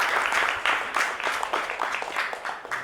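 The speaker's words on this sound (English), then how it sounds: "Unless until they get a loud round of applause," A round of audience applause for panelists at a procurement leaders summit, with many hands clapping in a fairly loud, uneven rhythm that swells and dips for a few seconds.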